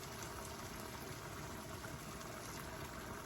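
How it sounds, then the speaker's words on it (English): Steady rushing of water poured continuously into a cooking pot of lentils for curry, broadband and even throughout with no speech. "Now you're going to put 3 cups of water in there."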